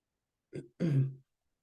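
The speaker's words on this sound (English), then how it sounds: "I hear you clearing your throat" A short throat clearing: a brief catch followed by a longer rough, low rasp, heard up close with silence around it.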